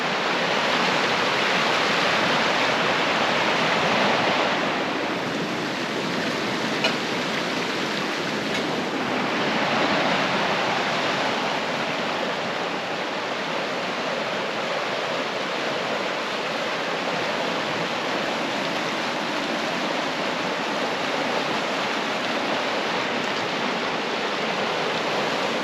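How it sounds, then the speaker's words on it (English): A small creek flows steadily near a campsite, its broad, even rush of water continuous and close throughout with no voices. "pretty good little stream"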